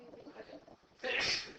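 A single sharp sneeze bursts out near the end, loud and close, following a stretch of quiet indoor murmur.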